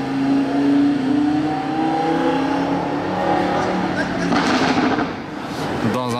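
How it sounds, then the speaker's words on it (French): A powerful sports car engine in Monaco rumbles loudly, then surges into a sharp roaring rev with a few crackling pops near the end. "Et hop, le rugissement."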